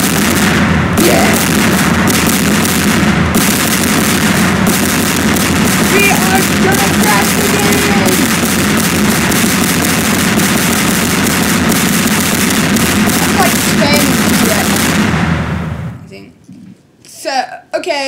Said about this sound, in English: we're gonna see if we can blow this up